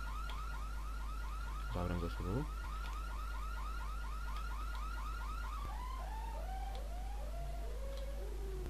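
A video game car alarm wails in repeated sweeping chirps that cycle steadily and then slow into longer descending tones, with a constant low hum underneath and a brief spoken phrase partway through.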